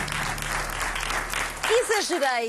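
Studio audience applause on a Portuguese talk show, welcoming a biological medicine specialist; steady clapping fills most of the moment, then fades as a voice speaks over it.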